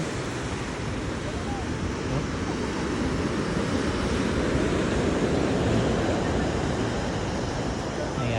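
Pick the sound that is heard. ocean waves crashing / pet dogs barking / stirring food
ocean waves crashing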